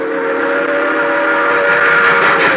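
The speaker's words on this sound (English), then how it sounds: "An express train roaring by." An express train roars past at night in an old-time radio horror drama, a steady loud rumble of cars with a sustained whistle tone held throughout, close and continuous.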